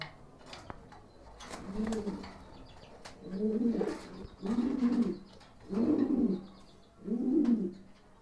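Pigeons coo in a series of four or five low, throaty bursts spaced about a second apart, with faint chirps and light clatter in between.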